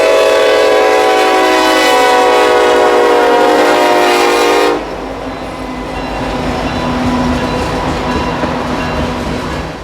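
A CN heritage-painted locomotive leading freight train M337 at Broadway in Rockford, Illinois sounds a loud, sustained horn blast for about five seconds, then rumbles past with steady rolling wheel noise.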